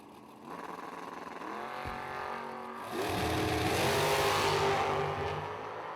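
A drag-racing door car powers down the track at the Numidia 150 meet. Its engine drones at a distance, rising in pitch, then swells louder and rougher midway as it pulls harder.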